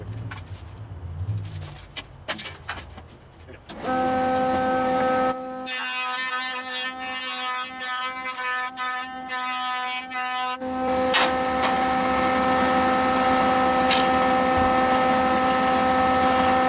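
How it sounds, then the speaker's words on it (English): Old, long-unused wood jointer machining 2x4 boards for a workbench: a steady loud motor whine with strong tonal hum, rising abruptly after a quieter start and running continuously with cutting noise over it, no talk. "after I have them all going through the joiner, then I'm going to send them through the planer"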